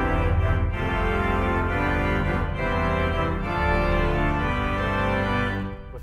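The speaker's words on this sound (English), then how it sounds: "that's what the swell sounds like" A hybrid pipe and digital organ at West Raleigh Presbyterian plays swell stops coupled to the pedal, giving a full, sustained chordal tone with deep bass that shifts between chords and thins briefly at the end, no talking.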